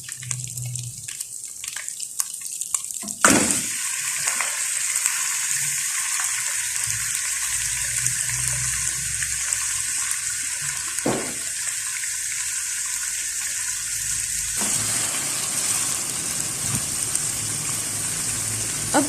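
Chicken with ginger and garlic for chicken jalfrezi frying over high flame, giving a steady, hissing sizzle that runs throughout and changes tone a few times as the pan is handled, with no talking.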